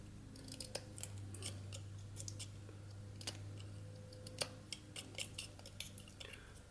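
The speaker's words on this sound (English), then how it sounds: "I just put my knife in the wood, like so. A little notch up at the top here, stop cut, and then I'm just going to remove a bit of wood over here." A utility knife whittles a walnut branch, making a series of sharp, faint scraping clicks and small cuts at irregular intervals, close and quiet over a low steady background hum.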